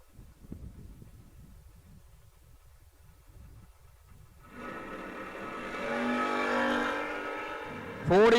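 Drag race cars, including a Chevy II, launch and run down the strip at a bracket race, engines roaring up from a distance and growing louder after a quiet start, with a sharp rising whine at the end.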